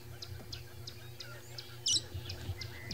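A parrot with a brown head and green body gives short, faint, repeated high whistles over a low background hum, with one brief sharper chirp partway through.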